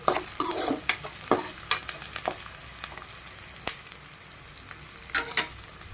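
Green chillies, tomato and mustard seeds frying in a pan, a soft steady sizzle broken by sharp clacks and scrapes of a spoon stirring at irregular intervals.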